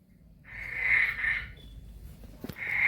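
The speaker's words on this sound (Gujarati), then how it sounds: "તો ઘરમાં દેડકા આવી ગયા." Frogs croaking inside a house: a sustained trilling croak that rises and fades over about a second, then starts again after a pause, moderately close, with a soft knock in between and no talking.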